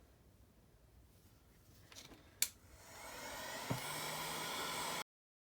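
After a few faint clicks and taps, a heat gun warming an iPhone 12 Pro Max screen starts up into a steady, loud, airy blowing roar that continues until it cuts off abruptly.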